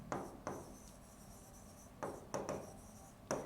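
Chalk or marker strokes on a classroom board, a handful of short scratchy scrapes separated by pauses, close and fairly quiet.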